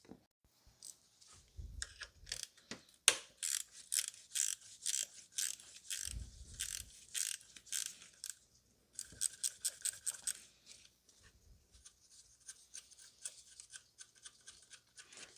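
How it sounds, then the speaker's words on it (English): A 10 mm bolt being removed from a BMW N55 3.0 L turbo engine in a 2016 M235i, heard as quiet bursts of rapid ratchet clicking in several runs separated by pauses and soft handling thuds, close-up without speech. "there's a 10 mil bolt that needs to be taken out"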